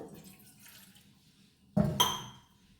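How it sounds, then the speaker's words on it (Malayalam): Water is poured into a kitchen vessel in a short, splashing burst with a bright ring, after a quiet stretch of faint background noise. "ഒരു പാത്രത്തിൽ വെള്ളം എടുക്കുക."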